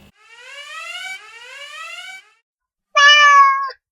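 A cat lets out two long, rising meows close up, then a shrill electronic alarm-like beep sounds for under a second after a brief pause.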